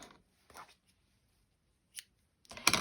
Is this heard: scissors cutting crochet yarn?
yes